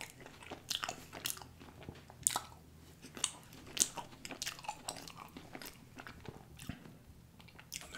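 Mouth sounds of someone eating vanilla ice cream up close, with soft wet smacks, squishy bites and lip noises repeating irregularly throughout, no talking.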